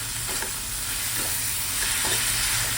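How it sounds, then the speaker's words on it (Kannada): Tomatoes fry in a pan while being stirred, a close, continuous sizzle overlaid with a few soft scraping strokes of a spoon. "ಟೊಮೆಟೋಸ್ ಆ್ಯಡ್ ಮಾಡಿದ್ಮೇಲೆ ಒಂದು ಸ್ವಲ್ಪ ಹಾಗೆ ಅದನ್ನು ಫ್ರೈ ಮಾಡ್ಕೊಳ್ಳಿ."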